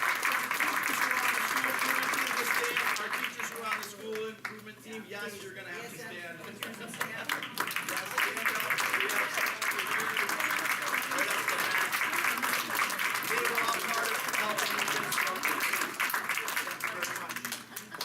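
A school audience applauds the school improvement team teachers, with sustained, loud, dense clapping filling the room throughout and a voice speaking briefly over it partway through.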